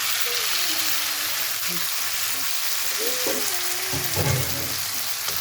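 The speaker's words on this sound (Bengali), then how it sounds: "চিংড়ি মাছটা দিয়ে চিংড়ি মাছটিকে ভাজতে থাকবো।" Shrimp fry in a pan with onions that are already browned, giving a steady, close sizzle and crackle. Brief stirring bursts and a faint voice sit underneath it.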